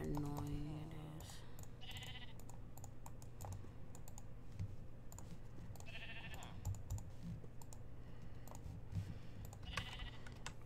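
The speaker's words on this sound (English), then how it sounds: "I wanna kill that sheep because how freaking annoying it is." Sheep bleating in a video game, a few short, faint bleats spaced apart over steady keyboard typing and low background hum.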